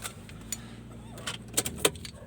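Keys jangle in a few brief metallic bursts near a parked car, heard over a low steady background hum.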